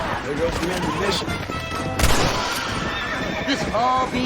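Horses neigh and whinny amid galloping hooves in the Western video game Red Dead Redemption, several loud whinnies over clattering clip-clop and a sharp crash, with someone shouting over the action.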